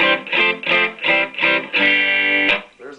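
A Telecaster electric guitar played through a dry amp with no reverb: five short, even strummed chords in a steady rhythm, then one longer ringing chord that cuts off, followed by a faint tail.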